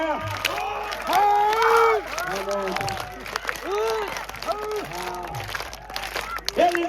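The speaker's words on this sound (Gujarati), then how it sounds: "હવે તાળી નો તાળ દેવાનું છે" Hands clap in steady rhythm, keeping time to a devotional Meldi Maa song in kalingo raag (dakla style), the claps sounding as crisp beats under a loud, prominent singing voice.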